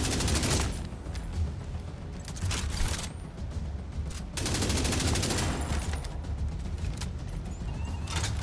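Assault rifle fire in The Division 2 rattles in sustained, dense automatic bursts, loud and close, broken by short pauses, with no talking.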